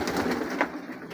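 Pigeons in a large backyard flock of around sixty to seventy birds coo softly and continuously, a low murmuring texture at moderate distance with one slightly louder call partway through.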